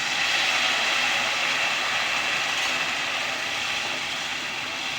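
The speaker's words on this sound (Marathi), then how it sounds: "जे आपण पाव ग्लास पाणी घेतलेलं आहे ते ह्या फोडणीत टाकणार आहे" A loud, steady hiss of water poured into hot oil tempering for poha, sizzling evenly for several seconds with no voices.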